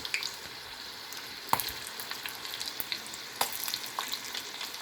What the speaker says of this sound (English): Let the mustard and cumin seeds crackle